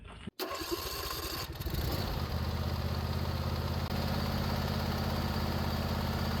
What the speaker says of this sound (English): And with the engine running,